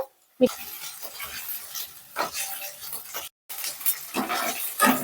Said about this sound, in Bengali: পনিরগুলো মোটামুটি হালকা ব্রাউন করে ভাজা হয়ে গেছে